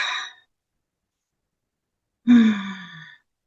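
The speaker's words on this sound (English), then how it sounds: "I'm yawning." A person yawns once, a drawn-out breathy exhale sliding downward in pitch, heard close and alone after a short breath and a stretch of silence.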